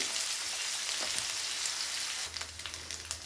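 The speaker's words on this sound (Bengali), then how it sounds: "আলুটাকে একটু লাল লাল করে প্রথমে ভেজে নিতে হবে।" Potatoes fry in hot oil in a pan, a steady close sizzle with scattered pops that thins toward the end, with no voices.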